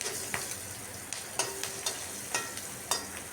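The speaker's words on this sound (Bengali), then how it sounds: "কাঁচা লঙ্কা ভাজতে গেলেও অনেক ছিটকয়" Green chilies and black cumin frying in hot oil for a Bengali rui fish curry with ridge gourd and potato: a steady close sizzle punctuated by sharp, scattered crackles and spits, with no talking.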